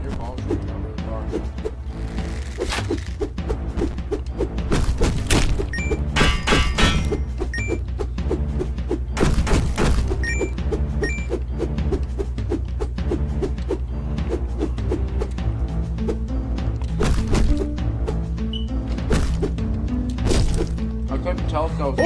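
Explosion effect in the dungeon-crawler video game Devious Dungeon on Xbox One: loud broadband bursts and thuds burst out over constant busy game music and effects.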